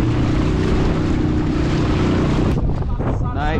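A motorboat sets off in the Stockholm archipelago as one of three boats heading out, a loud steady engine drone buffeted by wind noise, easing slightly near the end.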